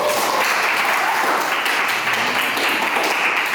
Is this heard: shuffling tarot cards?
no